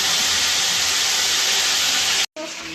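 Spices such as ginger and cumin sizzle and spatter loudly in hot oil with fried potatoes in a pan for a fish curry, a dense continuous hiss that cuts out briefly near the end.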